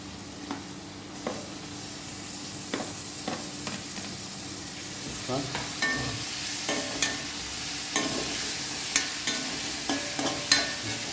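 Green chilies and tomato fry in a pan with onion already softening, making a continuous sizzle close by, broken by regular spoon taps and scrapes against the pan as the mix is stirred, with no voices.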